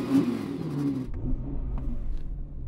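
An Audi R8 V10 blips its engine with a short rising rev that drops away after about a second, then settles into a low, rumbling idle, heard fairly close with no talk over it.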